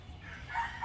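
A rooster crows faintly in the distance, a drawn-out rising call heard through steady farmyard background noise on a morning when turkeys are also kept.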